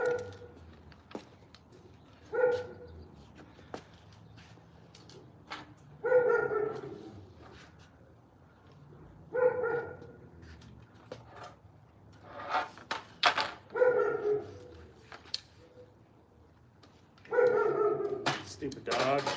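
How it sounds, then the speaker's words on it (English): A dog barks repeatedly outdoors in short bursts spread across the stretch, some barks louder and closer than others, with quiet gaps between them. "Stupid dog."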